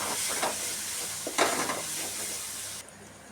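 Turmeric, chili powder and sugar sizzle in a hot pan for prawn malai curry while a spoon stirs and scrapes them, giving a soft frying hiss with a few brief scraping bursts that cut off near the end.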